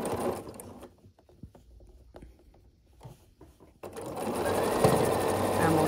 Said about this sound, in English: And we'll sew it on that way.